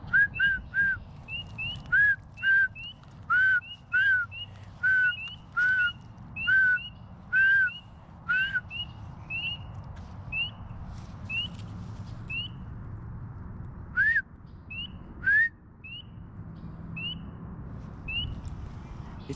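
A person whistles a repeated series of short rising chirps in an even rhythm, imitating frog calls over a low outdoor rumble, then pauses and resumes briefly.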